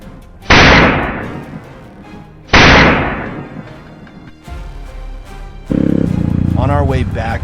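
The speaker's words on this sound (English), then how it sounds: "As it charged out from the brush, I squeezed off a flurry of shots." Gunshots fired at a charging wild boar near a farm, two loud sharp blasts with decaying tails, then a heavier burst of noise under which a person talks.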